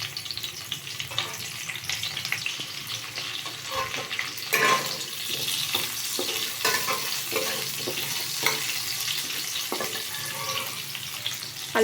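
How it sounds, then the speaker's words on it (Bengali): Potatoes frying in oil in a pan, with a steady sizzle throughout and intermittent stirring clatter over it, close and fairly loud, no talking. "এবার আমি আলুগুলোকে ভেজে নেব"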